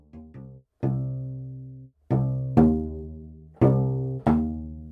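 Plucked pizzicato cello notes from a sampled string library recorded close in a small room: two quick soft plucks, then a string of ringing, resonant notes with sharp attacks, each decaying slowly, in an unhurried rhythm.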